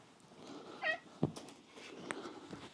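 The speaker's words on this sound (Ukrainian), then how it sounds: "Це кіт моделі Мейкун" A Maine Coon cat meowing, one short faint meow followed by a few soft clicks and rustles in a quiet room.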